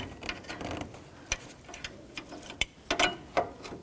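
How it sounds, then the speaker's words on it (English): Ratchet with a 10mm socket snugging up a radiator bolt on a 2007-2017 Jeep Patriot 2.4L, quick uneven clicking strokes with a few sharper metallic ticks, close and fairly quiet. "Once again, that's a 10mm socket. We'll just snug that up."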